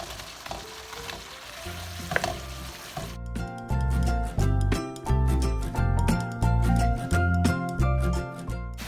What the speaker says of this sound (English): I'm adding in the meatballs.